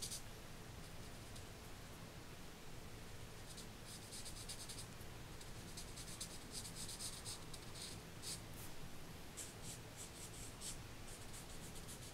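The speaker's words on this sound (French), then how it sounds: "je vais colorier un peu, mettre tout en marron, je pense" Pencil colouring a drawing brown, a faint continuous scratchy rubbing of lead on paper with irregular lighter strokes, close and quiet throughout.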